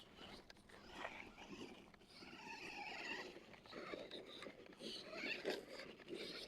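A small RC car climbs a mud mound with its electric motor whining and revving in bursts as the wheels spin and grip, close by and fairly faint, with a voice speaking in the background.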